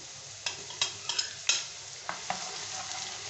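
Garlic dropped into onions frying in a pan, bursts of sizzling and short stirring scrapes over a low steady crackle.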